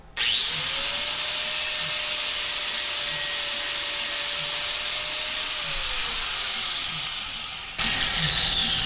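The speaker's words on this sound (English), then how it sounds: "Just take your grinder Run it on there for a second." A hand grinder held against a soapstone welding marker to sharpen it gives a loud, steady, high-pitched whine for several seconds. It then winds down and briefly spins up again close by.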